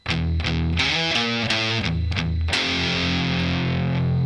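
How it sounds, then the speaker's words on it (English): Heavily distorted electric guitar plays an intro riff: picked single notes, then two chugging palm-muted low E hits and a ringing power chord that sustains loud to the end, with no talking. "after that I'm just going to do 2 palm mutes on the E and then the power chord."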